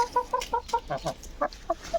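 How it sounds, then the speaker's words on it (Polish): Several farm hens in an autumn garden cluck in short, close bursts, a rooster among them, repeated irregular calls over about two seconds with no talking. "O, moje kury. Wszystkie przyszły"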